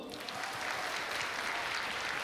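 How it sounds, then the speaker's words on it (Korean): Audience applause at a church youth summer camp worship service, a dense, steady clapping that fills the whole stretch at even strength with no voices over it. "우와, 박수."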